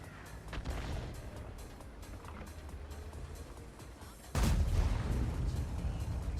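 Tank cannon fire in World of Tanks, a heavy close blast that booms out midway, followed by rumbling engine and battle noise, with game sounds and distant shots throughout.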